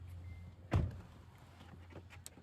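A car door opens with a single dull thunk, close and moderately loud, against a low steady hum of an idling vehicle, followed by faint rustling.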